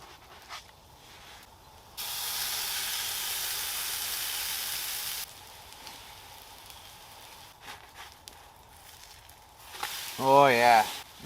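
A pancake frying in a hot pan over a fire inside a winter tipi gives a steady, close sizzle that lasts about three seconds. Quieter crackling follows, and a short voice is heard near the end.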